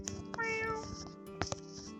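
A voice imitates a cat's meow toward a lucky cat statue during play of the game AI: Somnium Files, a short drawn-out meow with a few quick mewing sounds around it, fairly quiet and clear.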